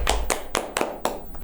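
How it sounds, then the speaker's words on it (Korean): Six sharp hand claps land close by in a quick, slightly uneven rhythm, each one crisp and separate, with a quiet room between them and no speech. "박수 누가 3번 친다 그래서 여러 번 쳤어요"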